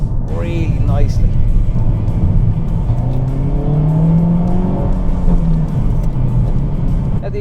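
Honda Civic Type R engine and exhaust under way, a steady loud drone whose pitch slowly rises and falls through the gears, with someone talking over it throughout.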